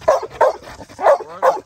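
A dog with new puppies whimpers and yips excitedly in four short, loud bursts close by, with no talk over it.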